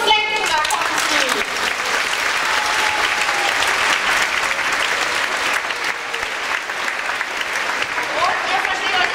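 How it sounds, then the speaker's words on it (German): An audience at a children's singing event claps loudly and steadily for an arriving group, sustained applause running the full length with a few voices and whistles rising above it. "Aber wir haben einen Applaus für die roten Gefleckten, da kommen sie."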